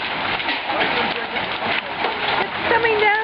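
Summer hail pours down hard in a dense, steady splattering roar, and voices talk over the downpour.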